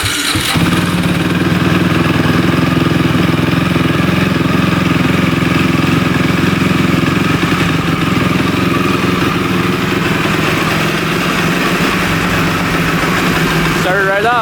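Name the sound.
Cannondale 440 quad engine starting and idling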